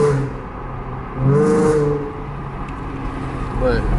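V6 Ford Mustang exhaust burbles and rises in short revving surges while driving, heard from inside the car under wind noise with someone talking over it.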